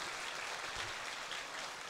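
Steady audience applause fills the room in an even, dense wash of clapping that continues throughout, with no talk over it.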